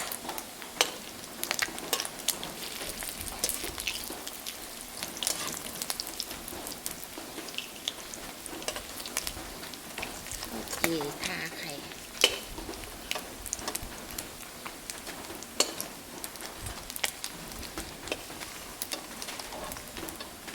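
Sticky rice coated in egg frying in oil in a pan, giving a continuous close sizzle with scattered sharp crackles and pops and no talking.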